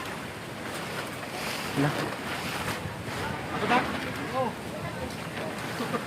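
Strong wind buffets the microphone with a steady roaring rush, like open water, while a person speaks briefly underneath.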